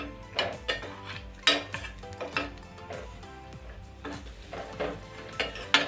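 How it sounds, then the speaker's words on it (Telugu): Almonds, cashews and raisins fry in ghee for village-style bottle gourd payasam, heard as a ladle clinking and scraping against the pan in irregular close strokes over a low background sizzle. "నేనైతే కొద్దిగా బాదం పప్పు, కొద్దిగా జీడిపప్పు, కొన్ని కిస్మిస్లు వేసి వేయిస్తున్నాను"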